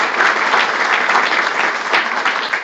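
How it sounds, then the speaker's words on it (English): Audience at a State of Wilson County address in Lebanon, Tennessee, breaking into loud, dense applause that holds steady throughout, close and full with no voices on top. "Give her a round of applause."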